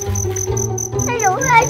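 Shrill, rapid cricket-like chirping plays in a toy cricket-catching game in a garden, bright and close, with a sweeping warbling tone toward the end and no clear talk over it.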